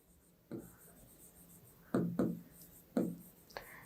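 Marker strokes squeak and scrape on a board during a maths lesson, several short separate bursts of writing, close and fairly quiet against a soft room background.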